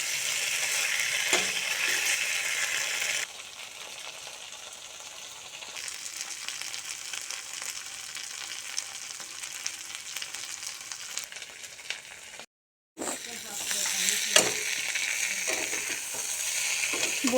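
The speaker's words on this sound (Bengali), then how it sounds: "আমি ভালো করে মশলার সাথে আলু কষিয়ে নিয়েছি" Potatoes sautéing with spices in a pan for a rohu fish and potato curry give a steady, close sizzle with light stirring scrapes, cut by a brief silent gap near the end before the frying resumes.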